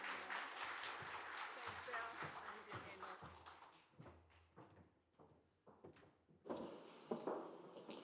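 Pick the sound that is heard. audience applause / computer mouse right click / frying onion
audience applause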